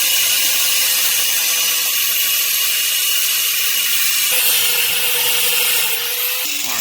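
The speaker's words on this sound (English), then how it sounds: "So I'm going to cut that hole in the bottom of the sheet metal right behind the firewall." Power tool cutting a hole through the bottom sheet metal just behind the firewall of a Formula Drift Pro 2 rotary RX-7, a loud continuous high grinding rasp that shifts pitch partway through and runs steadily throughout.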